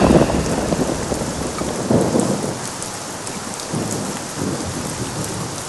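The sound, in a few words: rain and thunderstorm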